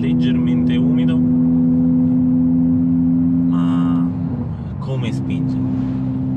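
A stage 2 tuned Golf 8 R with all-wheel drive, over 400 horsepower, idles with a steady loud drone, then launches from standstill on slightly damp asphalt with a brief dip and surge as the engine pulls away.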